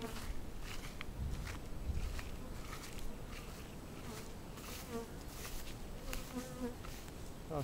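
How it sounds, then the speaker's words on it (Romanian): Honeybees buzzing around a beehive with a scale out in a field, a faint continuous hum with insects passing close by, under light outdoor noise. "Asta e stupul cu cântarul."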